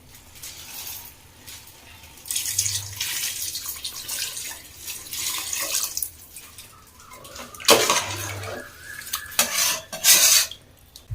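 While chicken biryani cooks, water is poured into the pot in two short splashing bursts, between soft clinks of metal pots and utensils and stirring. Quiet and close, with no talk.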